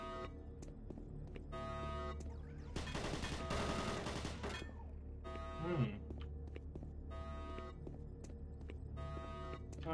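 Automated turret guns in the game Doom 3 fire a dense burst of rapid gunfire over a couple of seconds mid-clip, set among ambient game sounds and a warning voice.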